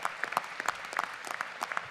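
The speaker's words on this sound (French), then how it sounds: "j'aimerais qu'on l'applaudisse" A congress audience at a union federation gathering claps in a brief, uneven burst of individual hand claps, close and moderately loud, with no speech over it.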